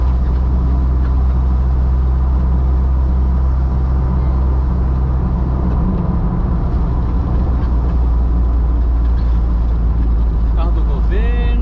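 A car cruises in fourth gear on an asphalt road, giving a loud, steady interior drone of engine and tyre noise with a constant low rumble, while a voice talks over it and a brief squeal occurs near the end.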